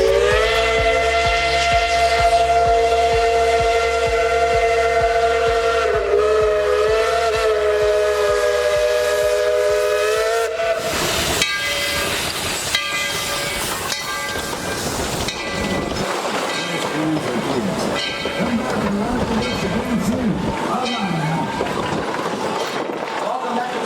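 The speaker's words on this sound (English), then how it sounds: "the train pulls back into the junction to let the old passengers off and let new ones on." Tweetsie Railroad steam train pulling back into the junction, with a loud sustained steam whistle for about ten seconds, then rumbling, clanking rail and car noise as it slows, with some talk underneath.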